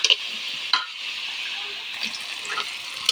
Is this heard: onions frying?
yes